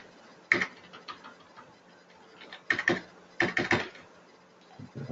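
Sparse clusters of crisp key clicks, typed in short bursts with pauses between, fairly close and quiet.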